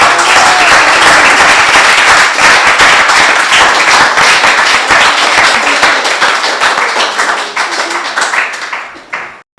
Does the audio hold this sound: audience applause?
yes